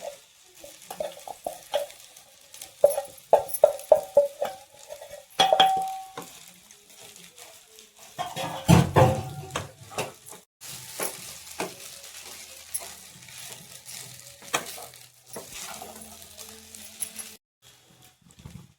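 Sabudana khichdi is stir-fried in a pan with intermittent scraping and stirring, soft sizzling between strokes, and a few brief clinks, all quiet and close with no talk.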